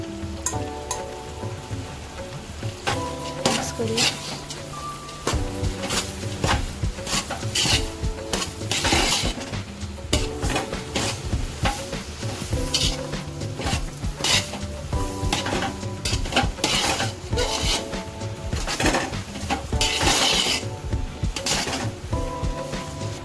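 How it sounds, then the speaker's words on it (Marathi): Dry fruits roasting in a pan for a puja prasad, with steady sizzling and repeated clinks and scrapes of a spoon stirring against the metal, close and continuous throughout. "भाजून घेतोय आपण तर ड्रायफ्रूट सगळे आपण टाकलेले आहेत"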